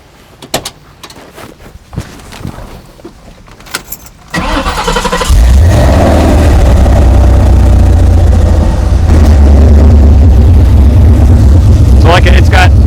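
A Ford Foxbody with stage 3 Comp cams and big valve springs: a few clicks and knocks, then the engine cranks and fires into a loud, steady, rumbling idle close by.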